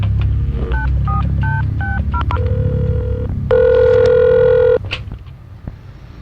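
Telephone keypad tones beep in a quick series in a dubbed Hindi action movie scene, then a long loud steady tone sounds before cutting off, clear and close.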